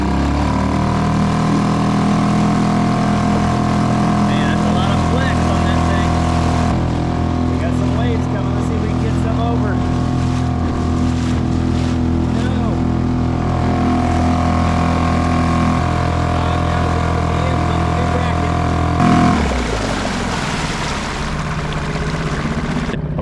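Suzuki 2.5hp outboard motor on a modified transom bracket, droning steadily at fairly high revs under a voice before the pitch drops sharply near the end.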